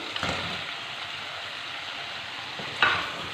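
Fried chicken pieces sizzle steadily in a tomato masala for a creamy chicken karahi, with the broadband frying hiss held close and even, broken by a couple of sharp stirring scrapes near the start and end.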